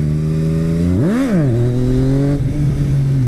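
Yamaha FZ09 motorcycle ridden by a beginner popping a wheelie, its engine droning at steady idle before a sharp rev swells and falls back, then settles into a steady hum.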